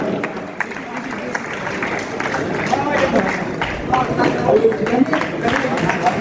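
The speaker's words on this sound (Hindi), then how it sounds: "जोरदार तालियां" Loud applause and crowd noise at a BSP party rally, a dense continuous wash of clapping and chatter from a large outdoor gathering, with voices mixed in throughout.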